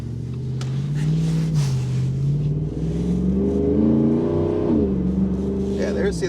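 A Jeep Wrangler JL engine revs steadily and loud nearby, its deep tone rising and falling through several throttle blips, with a person talking over it.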